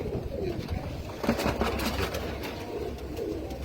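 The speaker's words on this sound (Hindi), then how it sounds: "ये कबूतर जा रहे हैं ईरान और इंशाल्लाह ताला खैरियत से पहुंच जाएंगे।" Royal Teddy pigeons, a large group of them close by, give soft, steady cooing over a dense murmur of bird sounds with no talking.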